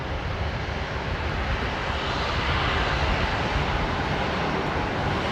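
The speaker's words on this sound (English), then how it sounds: "the C-17 there is going for a full-length departure off of runway 19 left" A USAF C-17 military transport jet taking off on a full-length departure from runway 19 left at Brisbane Airport, a loud, steady broadband engine roar that holds throughout with no voices.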